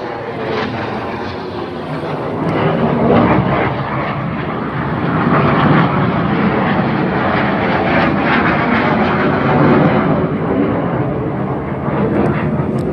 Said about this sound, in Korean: 근처에 비행장이 있나요? 왜 비행기가 저기 전투기인가? 저공 행진?